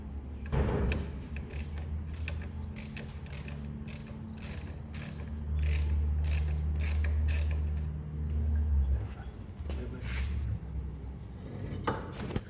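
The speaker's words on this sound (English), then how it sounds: "they're going to tighten them, and they're also going to replace the worn-out bolts, the mounting bolts, all of them" Mechanics work on car mounting bolts, tightening and swapping out worn ones, giving a run of close metallic ratcheting clicks and creaks with a steady low hum beneath, loud and continuous with no talk.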